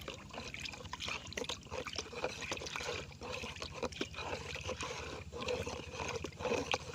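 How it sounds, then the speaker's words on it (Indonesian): A pesticide mixture is stirred in water, giving faint, irregular sloshing and trickling splashes throughout, with a low background hum. "jadi kita aduk kembali sampai benar-benar rata"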